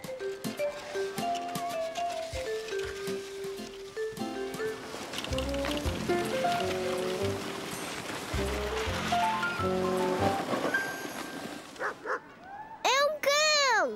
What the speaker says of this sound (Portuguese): É um cão!